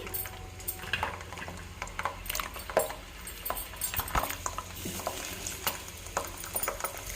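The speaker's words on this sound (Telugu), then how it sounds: "ఆయిల్ వేడైంది కదండి ఇందులో ఇలా వెల్లుల్లి వేసుకోవాలి" Soft sizzling and crackling of garlic frying in hot oil for amla pickle, faint and steady, with a few light clinks of a utensil against the pan.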